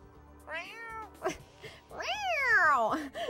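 A person imitates a cat, giving a couple of drawn-out meowing calls, the second longer and louder, with a low background hum.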